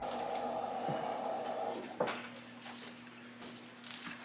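Water runs in a steady gushing stream from the tap of an Enagic Kangen Leveluk JR II water machine, then stops with a sharp click, leaving a low steady hum.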